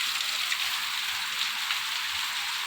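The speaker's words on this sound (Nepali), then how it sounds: "यहाँ धेरै जस्तो पानी परिरहेछ" Heavy rain pours down outside a house on Cayman Island, a dense, steady hiss of drops hitting surfaces, continuous and close with no voices.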